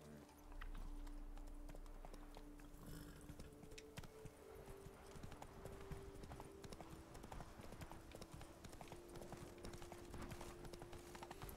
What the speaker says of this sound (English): let's get Roach, we'll ride around